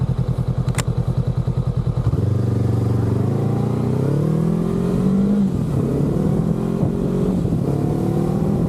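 A motorcycle idles with a lumpy pulse, then pulls away and accelerates, its engine note rising and dropping as it shifts through the gears at about 3,000 to 4,000 rpm. The engine is close and loud, and no one speaks.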